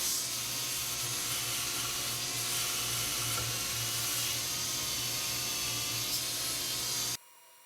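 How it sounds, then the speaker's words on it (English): A drill spinning a brass-coated brush scours a large cherry burl being turned into an urn, a continuous close whirring and scratching hiss that holds steady for about seven seconds, then stops suddenly. "I'm just using the brass coated brush mounted in the drill to clean up this this piece of wood"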